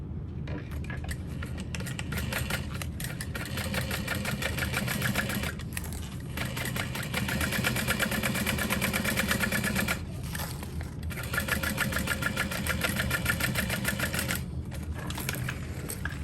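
A sewing machine runs top stitching through a backpack, a fast, loud, steady mechanical chatter that pauses briefly a few times before carrying on.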